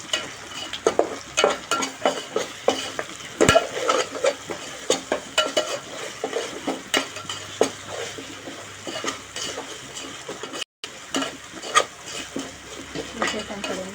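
Mutton curry with ginger garlic paste is stirred in a hot pan, a steady sizzle broken by repeated scrapes and clinks of the spoon against the metal. Close and fairly loud, with no clear talk.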